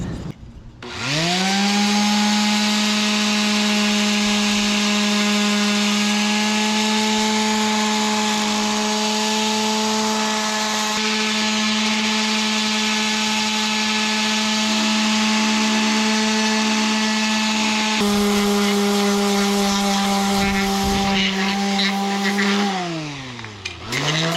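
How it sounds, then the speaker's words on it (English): A power sander works wood on a boat's new tiller mount during repairs after a lightning strike, a loud, steady motor whine running nearly the whole time before winding down and dropping in pitch at the end. "sand that down, smooth it out."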